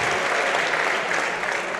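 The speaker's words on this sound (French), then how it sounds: "Les spectateurs vont commencer à avoir les mains qui vont rougir à force d'applaudir" Spectators applauding steadily at the 2017 French Championship pétanque doubles final, a dense, sustained wash of clapping from a crowd with no voices standing out.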